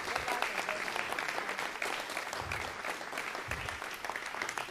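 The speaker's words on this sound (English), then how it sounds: "Now give them a round of applause" An audience at a city council meeting claps warmly for a water treatment team, a sustained round of applause from a moderate crowd with a few louder bursts, steady for the whole stretch.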